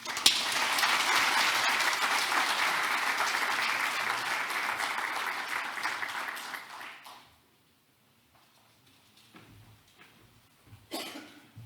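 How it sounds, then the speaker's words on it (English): Audience applause at a Bank of Korea international conference in Seoul: a dense, steady ovation of many hands for about seven seconds, then it fades out, leaving near-silence with a few faint rustles. "please welcome him with a big round of applause"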